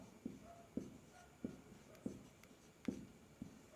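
Pen writing by hand on paper during a chemistry lesson about unit cells, heard as a series of short, soft scratching strokes repeating about every half second, close and quiet with no talk over them.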